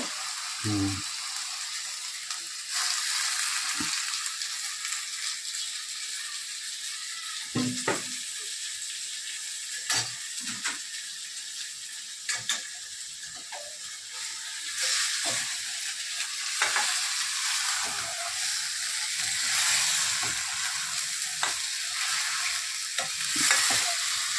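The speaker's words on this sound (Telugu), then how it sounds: "ఇదిగో మటన్ వేసేసుకొని కలిపెడితే" Mutton stirred into fried masala in a pan, a continuous close sizzle broken by irregular scrapes and clacks of a spoon against the pan, fairly loud.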